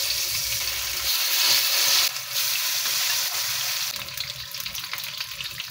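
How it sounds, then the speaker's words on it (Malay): Chicken pieces sizzle and crackle steadily in hot oil, a loud, close hiss that continues throughout with slight shifts in intensity. "Panaskan minyak tu untuk goreng ayam"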